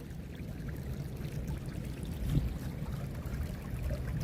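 Running water pours steadily through a yard drain combination into a dry well, a constant low rushing trickle that holds even and close throughout with no other sounds.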